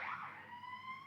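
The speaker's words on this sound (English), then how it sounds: "The road of sirens." A distant emergency vehicle siren drifts through a street in Pershore, a steady wailing tone that holds and slowly bends in pitch across the brief moment, faint and far off with no talk over it.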